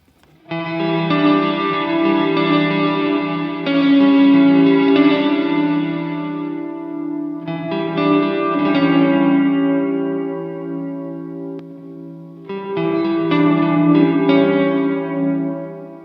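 A sustained, heavily reverberant electric guitar chord through a Fender Hammertone Reverb pedal with no dampening rings out in three long swells, thick and muddy with a washy, smeared tail.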